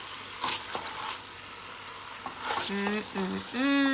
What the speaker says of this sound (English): we're gonna give this a good mix